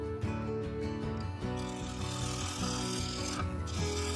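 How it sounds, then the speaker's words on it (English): Half-inch bowl gouge cuts wood from a bowl spinning at about 700 RPM on a lathe, giving a continuous rasping scrape with uneven rhythmic pulses, close and steady throughout. "I turned the speed up to around 700 RPM and began removing material."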